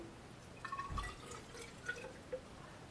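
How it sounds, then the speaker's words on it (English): Water is poured from a bottle into a graduated cylinder, a faint, brief trickle with a few small drips and splashes over quiet room background. "I'm going to put some water in here."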